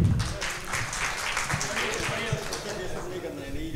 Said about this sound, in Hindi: एक मर्तबा मेरी हौसला अफजाई के लिए तालियां बजा दीजिए